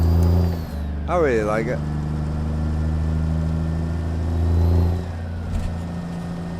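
A Cummins N14 Select Plus truck engine in American Truck Simulator drones with a steady, low, rumbling hum. A person talks over it, and a brief warbling tone cuts through early on.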